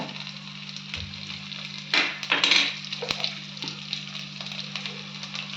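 Mustard seeds, cumin and crushed garlic hit hot oil in a pan for sambar rice, giving a short sharp burst of sizzling with a few metallic clinks, then a quieter simmering hiss.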